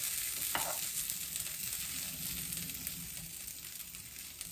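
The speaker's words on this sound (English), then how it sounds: "It's quite a runny batter. Ooh, sizzle, sizzling." Steady, close sizzling of runny low-carb batter frying in a pan, a constant crackling hiss with a faint clink near the start.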